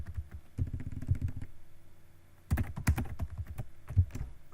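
Someone typing on a computer keyboard, two quick bursts of close, light key clicks separated by a short pause, quiet and without talk.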